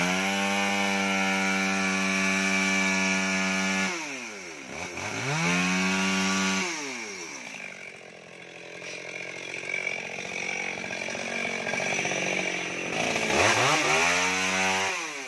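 A chainsaw cuts down an old sugar palm about seventy years old in a Cambodian-area village, its engine roaring steadily near the microphone, dropping to idle and revving again between cuts.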